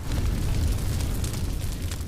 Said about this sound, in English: Who the fuck set the place on fire?